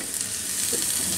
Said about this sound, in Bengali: গাজরটাকে হালকা করে ভেজে নিই